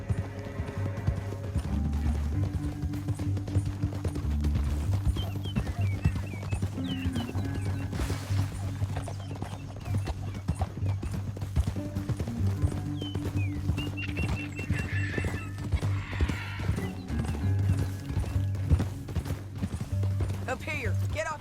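Galloping horse hooves in a Western video game, a steady clip-clop running under continuous music, with a brief whinny and characters talking over the ride.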